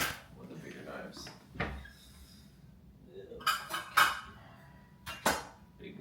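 A big knife taken from a kitchen cutlery drawer, with a drawer sliding and several sharp metallic clinks of rattling utensils, and a voice talking in the background.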